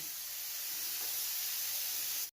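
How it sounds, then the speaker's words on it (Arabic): Meat and onion fry in a pan with a steady broadband sizzle and hiss, even and unbroken, close by with no voices, until it cuts off sharply at the end. "ملي كتقلى لنا هاد اللحيمه مع هاد البصيله"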